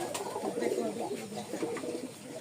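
Soft, low coos from racing pigeons repeat in a steady murmur, fairly close, with a few faint bird calls above.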